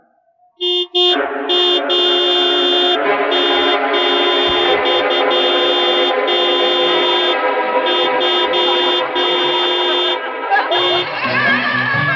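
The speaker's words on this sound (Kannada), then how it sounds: "ಹಾರನ್ ಹೊಡಿಬೇಡ ಅಂತ" In a Kannada film street scene, a vehicle horn blares loud and long, one sustained blast held for several seconds after a short opening toot.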